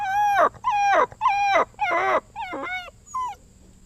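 A puppy whimpering in a yard, six high, wavering whines in a row with short gaps, close and clear, the later ones quieter, with no voices.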